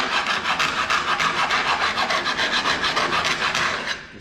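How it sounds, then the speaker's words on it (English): A coarse file rasps along plasma-cut metal edges in fast, even strokes, loud and close, the rhythm continuing steadily before easing off at the end. "the way I do that is by taking a coarse file and"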